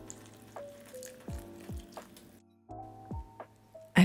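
Water is poured into a pot of potato and red cabbage soup, giving several brief splashing, gurgling bursts with short pauses between them, close and moderately quiet.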